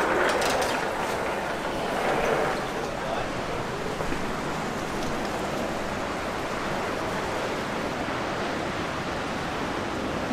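Ocean surf roars steadily below a hotel balcony in the Canary Islands, a broad continuous wash of breaking waves with no pauses, loud and close, and no one speaks over it.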